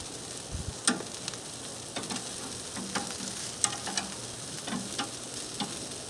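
Chicken wings on a barbecue grill give off a steady crackling sizzle with scattered sharp pops and clicks as they are flipped, close and moderately loud, with no talking.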